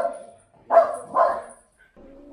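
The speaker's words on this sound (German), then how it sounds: "Der Luca hat Angst, weil überall Hunde sind" Dogs bark inside a veterinary clinic's waiting area, two short bursts of barking separated by brief pauses, fairly close and moderately loud, with faint background sound between.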